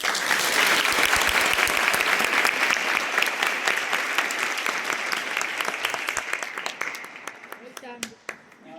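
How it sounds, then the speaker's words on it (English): A school audience at a ceremony rewarding the best children claps in a big, dense round of applause that holds strong, then thins into scattered claps and fades. "Can you give him a big round of applause?"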